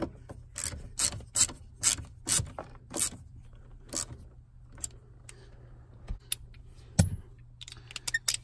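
Ratcheting and rubbing on a bolt as it is snugged onto the steering lock of a BMW E39 5 Series, a series of short, close mechanical clicks and scrapes with gaps between them.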